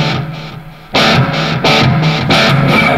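A Bacchus Imperial 24 electric guitar with delay and reverb effects plays loud, bright strummed chords that ring out in repeated bursts after a quieter opening, with echoing tails.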